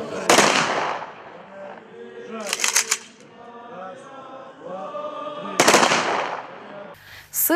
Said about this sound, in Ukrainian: солдати хустської військової частини вшанували пам'ять загиблих салютом